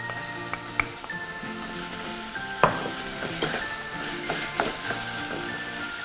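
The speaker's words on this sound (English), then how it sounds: "Next, beetroot goes in. So the beetroot is already grated." Grated beetroot sizzles and crackles steadily in a hot pan for an apple beetroot relish, with occasional stirring scrapes and no talking.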